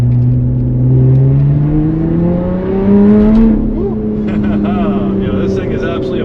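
A 2020 Lotus Evora GT's supercharged engine revs and accelerates from inside the car, its tone climbing steadily with a supercharger whine on top, then shifting down and building again on a public road.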